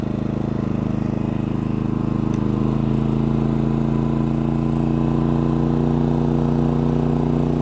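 A MaxpeedingRODS 4000-watt dual fuel generator engine runs on liquid propane under a 1500-watt heater load, a loud steady drone whose pitch shifts slightly partway through, then holds constant to the end.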